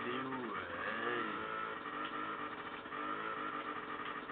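A motorcycle engine in the video game Tomb Raider Remastered hums and revs steadily at low volume, a continuous buzzing drone with slight pitch shifts, while a player talks over it.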